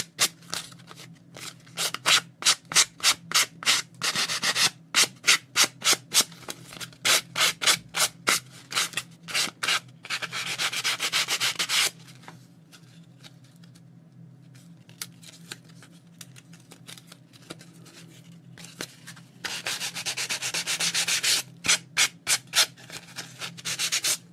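Sandpaper rubs along a paper edge to roughen it, producing rapid, rhythmic close-up scratching strokes in quick bursts, with a quieter stretch in the middle before the brisk sanding returns.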